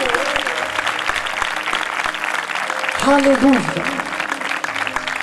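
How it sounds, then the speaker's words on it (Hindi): A church congregation claps loudly in praise during a worship service, a dense continuous wash of applause mixed with voices calling out over it. "जोरदार ताली मेरे यीशु के लिए"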